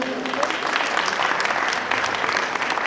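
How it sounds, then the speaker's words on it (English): A crowd applauding teachers being honoured at a school's centenary celebration: dense, steady clapping held at an even, fairly loud level throughout. "applause, ladies and gentlemen"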